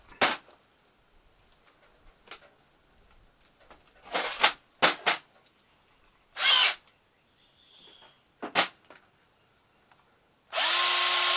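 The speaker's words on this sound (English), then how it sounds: "Will my drill fit on that?" Several short, whirring bursts from a power drill, started and stopped in quick pulses with silent gaps, ending in a steady, louder run.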